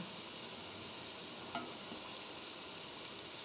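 Potatoes for kazan kebab fry in a pot with a steady, even sizzle, interrupted once by a single soft scrape or clink.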